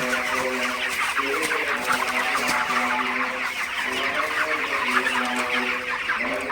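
A flock of broiler chickens, grown to about two kilograms, cluck continuously inside a farm shed at night, many overlapping bird calls forming a dense, steady chorus close by.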